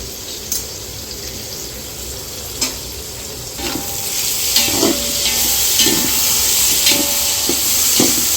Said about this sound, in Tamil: பச்சை மிளகா போட்டுறேன்ப்பா, தக்காளியும் போட்டுடுறேன்